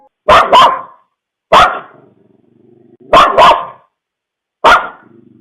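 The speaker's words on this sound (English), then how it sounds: "we can hear the dog barking at something" A dog barks in short loud bursts, some doubled, separated by pauses, close by with quiet gaps between.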